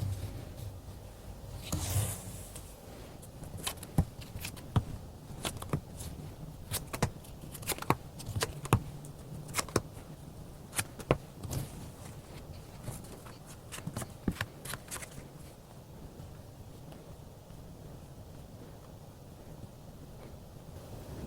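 Tarot cards being shuffled, a long run of crisp riffling clicks and flutters up close over a steady hiss of room or wind noise, tapering off toward the end, with no voices.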